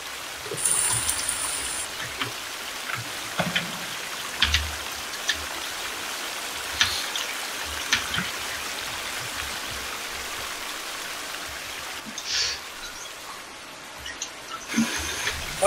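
Water flows steadily in the survival video game The Forest. The rushing hiss is continuous at moderate loudness, like a stream or rainfall, with occasional soft knocks and thumps and almost no talk.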